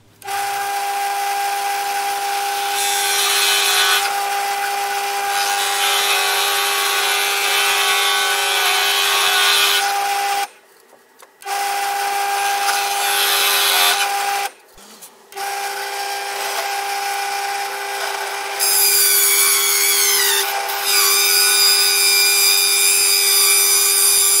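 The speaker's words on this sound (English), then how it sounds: "let's get this over to the drill and drill these holes out" A loud, steady drill whine drilling holes in a board runs continuously with a strong tonal hum, pausing briefly twice before resuming, close and sustained.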